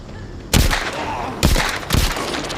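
Three sharp, loud gunshots from a scoped rifle in a first-person shooter video game, spaced about a second apart, each with a brief ringing tail over quiet background.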